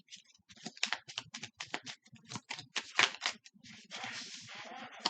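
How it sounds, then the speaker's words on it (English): Tarot cards riffled and shuffled by hand nearby, a rapid series of crisp flutters and slaps that builds into a continuous papery riffle near the end. "So it's hard to shuffle these cards."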